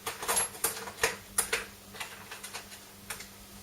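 Flowerpaste is cut for a peony petal in a quick run of small, dry clicks and snips, about a dozen close taps at an uneven rhythm, quiet and with no voices.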